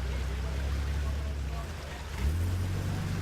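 A white Toyota Hilux 4x4 at an off-road event engine rumbling as it backs off and then drives through an obstacle, revving up near the end under a commentator's voice.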